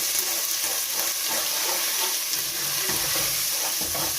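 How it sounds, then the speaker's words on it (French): Tomato paste fries in hot oil in a pan, a dense, steady sizzle with soft scraping as it is stirred, close and unbroken. "Là, je mets tomate concentrée."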